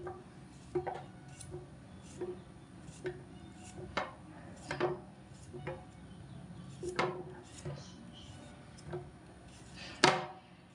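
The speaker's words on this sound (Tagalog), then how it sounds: "Ating gagayatin na ating sibuyas." A knife slices through an onion on a cutting board, sparse knocks and taps at an irregular pace, quiet and close, with one sharper knock near the end.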